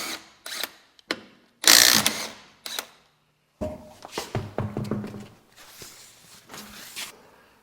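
Ratchet and tool work loosening the wheel bolts on a car, with short bursts of clicking and mechanical whirring separated by pauses, close and fairly loud.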